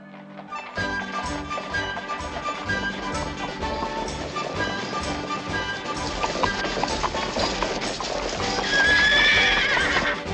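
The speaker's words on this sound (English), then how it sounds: "Let's get our horses." Horses from an animated 1987 Three Musketeers adventure set in Paris neigh and whinny loudly while hooves clip-clop steadily underneath, a busy, close galloping scene with the whinnies rising sharply near the end.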